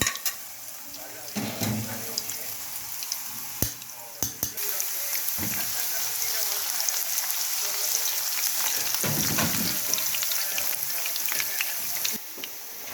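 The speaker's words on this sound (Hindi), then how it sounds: "पहले हम प्याज को हल्का सा ब्राउन करेंगे" Onions sizzle steadily in hot oil as they lightly brown for a Pakistani daal chawal, with occasional clatters of stirring in the pan while a voice talks over the frying.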